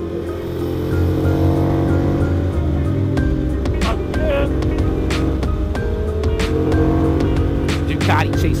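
Ducati Monster motorcycle chasing a Kawasaki Ninja Z1000 on New York roads, a loud continuous engine drone with throttle surges and passing traffic throughout, close and steady.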